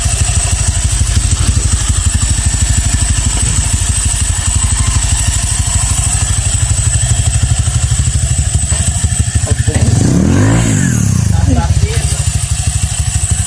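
A Honda Click/Vario 125 scooter engine with a direct dry clutch idles with a rough, rattling beat, then revs briefly as the clutch grabs before settling back to idle.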